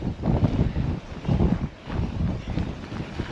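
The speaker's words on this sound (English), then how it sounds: "Okay, I'm legit being pushed by the wind." Strong blizzard wind gusts hard against the microphone outdoors in a storm, loud roaring buffets that swell and ease in waves.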